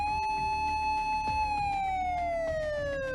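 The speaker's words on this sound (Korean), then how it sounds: "무나티엄의 비상 사이렌? A급이군요." Emergency alarm siren in the Trickcal Revive video game, a loud, steady wailing tone that slowly falls in pitch across the whole stretch, sounding alone over a busy game soundtrack.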